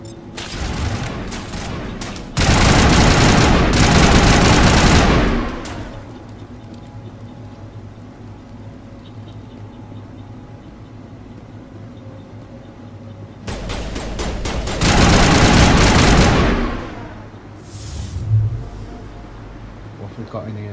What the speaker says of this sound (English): Assault rifle it is.